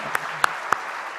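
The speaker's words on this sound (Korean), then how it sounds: "다시 한번 이들을 박수로 환영하겠습니다" A few hand claps from a Korean church congregation during a Sunday service, welcoming young people. There are three distinct, evenly spaced claps over a soft background hum.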